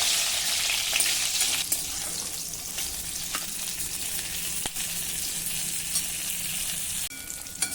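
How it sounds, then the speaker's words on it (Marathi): Brinjal pieces frying in hot oil with salt give a steady, close crackling sizzle that runs unbroken, with no voices. "तेलावर मिठावर आता आपल्याला ही वांगी छान फ्राय करून घ्यायची आहेत."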